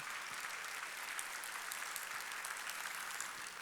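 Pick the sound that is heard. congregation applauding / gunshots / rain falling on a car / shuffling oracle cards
congregation applauding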